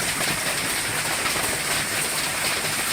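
Hail falls in a storm, a dense, steady rattling hiss of stones striking surfaces, loud and continuous with no pauses or voices.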